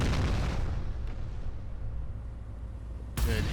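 A shell striking a ship's bow in the naval game Battleship Command: a heavy explosion with a booming roar that slowly fades, followed by another sharp burst near the end.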